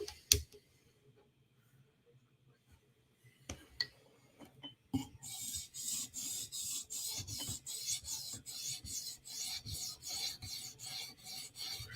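Knife being drawn across a 400 grit stone on a TSProf Kadet sharpener, a few scattered clicks first, then a long run of regular rasping strokes, evenly spaced and close.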